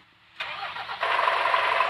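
In Bus Simulator Indonesia, a bus engine is cranked with a rising whir, then fires up into a loud, steady idle that continues close and alone.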